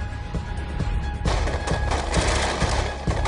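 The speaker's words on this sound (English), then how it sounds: "the Americans unload a barrage of gunfire" A sustained barrage of rapid gunfire from American soldiers in Iraq War combat, loud, dense overlapping shots fired at a sniper's house, with no talk over it.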